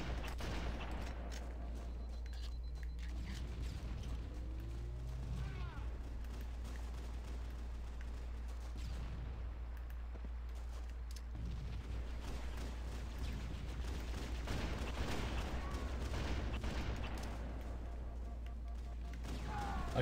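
Rapid bursts of gunfire and explosions in a Halo matchmaking game, steady and continuous over a low rumbling bed, moderately loud throughout with no voices.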